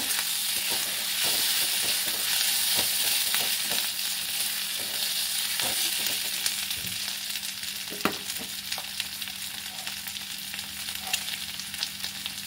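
Fish head and spice masala for Bengali muri ghonto sizzles steadily in a hot pan, a continuous frying hiss broken by occasional scrapes and knocks of a spatula stirring close by.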